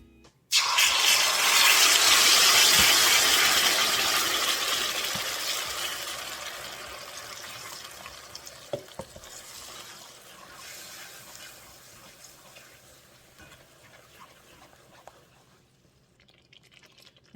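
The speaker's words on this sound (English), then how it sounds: "So now I'm just going to add the sauce to the pan, and I'm going to stir occasionally until it's thick." Sauce poured into a hot pan of browned pork chops, a loud sizzling hiss that gradually dies down, followed by quieter scraping and stirring sounds.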